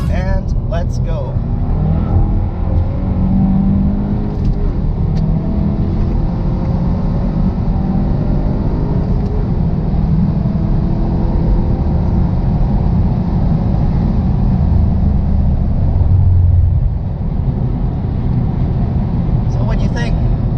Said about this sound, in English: Start by taking this curve. GTI is pretty good in the curve as well, and let's go.